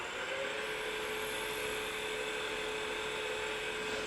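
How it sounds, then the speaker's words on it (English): Sanding a spalted wood candlestick spinning on a lathe, a steady high whirring hiss with a constant motor hum, loud and unbroken throughout. "I'm going to sand this up real quick"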